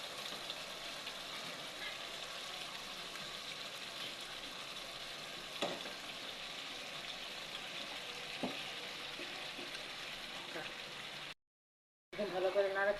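Chicken livers fry in a thick spice paste, giving a steady broadband sizzle that runs throughout with a few soft stirring knocks, a brief drop-out near the end, then louder clattering.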